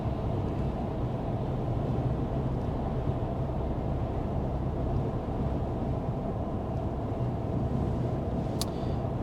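Inside the cabin of a 2023 Ford F-150 Tremor pickup at 55 mph on the highway, a steady low road and engine rumble with wind hiss holds constant throughout, with no talking.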